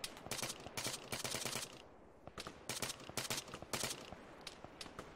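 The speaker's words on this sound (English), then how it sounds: "I hear shots on our north" Gunfire in Arma 3 rattles in repeated automatic bursts with brief pauses between volleys, sharp and sustained, with no talking over it.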